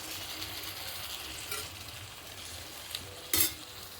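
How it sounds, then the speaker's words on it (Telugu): Tamarind juice hits frying okra in a pan for a curry, giving a quiet steady sizzle with a few scraping stirs of the utensil and one sharper clack near the end. "చింతపండు పులుసు పోసేసుకుందాం."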